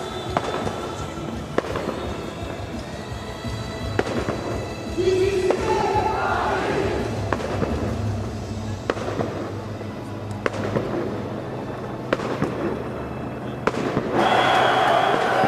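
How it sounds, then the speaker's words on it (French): Firecrackers pop and crack repeatedly from all around at a Paris street celebration of PSG's Champions League win, sharp bangs scattered over a constant crowd murmur and distant street noise. "On entend du pétard de partout."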